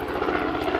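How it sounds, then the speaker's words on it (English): A helicopter passes overhead with a steady, dense rotor and engine roar, loud and continuous through the whole short moment with no talk. "helicopters."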